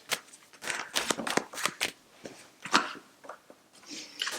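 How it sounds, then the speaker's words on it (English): A deck of tarot cards being shuffled by hand, with repeated crisp riffling bursts and flicking rustles in an irregular rhythm, close and moderately loud. "Just me having a good fumble with the cards"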